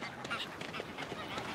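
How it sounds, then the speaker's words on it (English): Ducks or geese in the video game Forest Ranger Simulator quack and honk in a busy, continuous flurry at moderate loudness, filling the short moment with overlapping calls. "Am I getting attacked by ducks, geese?"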